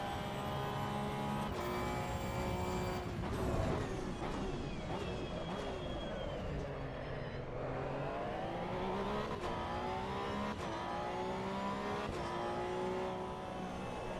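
A Porsche Cup race car in AC Evo, lapping Circuit of the Americas at partial throttle: a loud, continuous, harmonic engine note sweeps up and down in pitch with shifts and revs, no talking.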